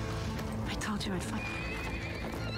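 Horse in The Wheel of Time television series gives a loud, clear whinny over clip-clopping hooves, with voices underneath.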